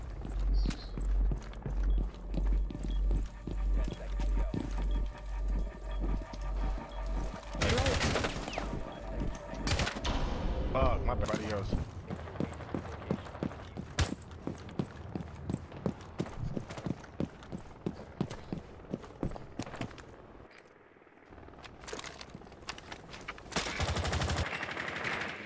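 Rapid gunfire in Rainbow Six Siege, with long bursts of fast, evenly spaced shots, some louder bangs, and brief pauses, mixed with footsteps and occasional voices.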